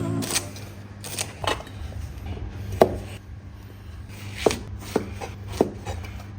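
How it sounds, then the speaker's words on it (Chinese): A knife chops scallions on a cutting board in a kitchen, giving a handful of sharp, separate taps spread irregularly over a low background hum, fairly close and moderately loud. "葱给它切一切，剥一剥"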